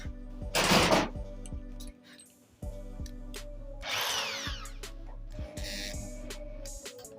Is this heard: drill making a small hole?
yes